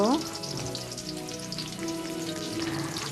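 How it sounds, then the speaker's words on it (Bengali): Chopped green chili and onion fry in oil while being stirred, producing a dense, even crackling sizzle like light rain, with a faint tonal hum underneath. "এরপর দিব কাঁচামরিচ কুচি পেঁয়াজ মরিচ একটু নেড়ে চেড়ে ভেজে নেব"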